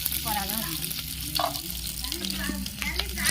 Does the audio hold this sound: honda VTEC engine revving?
no